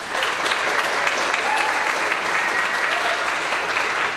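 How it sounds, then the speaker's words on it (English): Audience applause fills a school spring concert hall, steady, dense and sustained throughout with no talking over it. "So thank all those people, please, and a round of applause for them."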